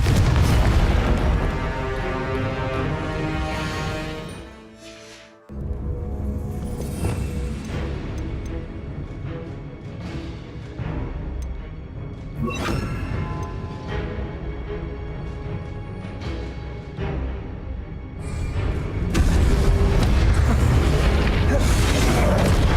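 Repeated booming blasts of the Confringo spell in Hogwarts Legacy, loud explosive bursts over dense combat noise, with voices heard between them.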